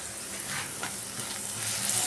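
Eggplant with Italian seasoning being stirred in a hot frying pan, a steady close sizzle with soft scraping strokes of the spoon running through it, no voices.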